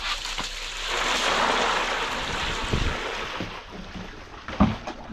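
Ocean water gushes and splashes as it is dumped into a Yeti cooler at a La Jolla boat launch, a broad steady wash lasting several seconds with a few sharper splashes near the end, no talking.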